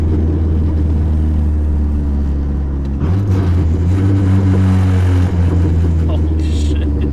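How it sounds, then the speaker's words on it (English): A diesel-powered car on solid motor mounts drones with a deep, heavy engine rumble that steps up in pitch as it revs, loud and close inside the cabin with talk over it. "Holy shit, it vibrates hard on diesel."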